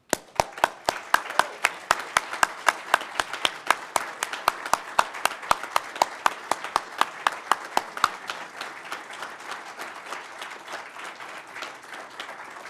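Rhythmic, slow, unison clapping for the 83 volunteer award recipients at a volunteer award ceremony, sharp evenly spaced claps over a softer bed of scattered applause that thins to loose clapping after about eight seconds.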